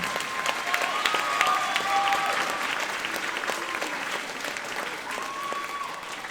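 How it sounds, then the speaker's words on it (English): Applause from parents and students at a middle school popular music concert, a full, sustained patter of clapping that fades slightly over time, with a few whoops and cheers rising above it. "Can I have another round of applause for Emmy Troxel,"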